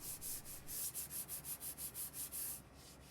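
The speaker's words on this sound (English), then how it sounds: "We always sand with the grain" Sandpaper rubs along wood with the grain in quick, even back-and-forth strokes, about a dozen passes, close and fairly soft, with no voices.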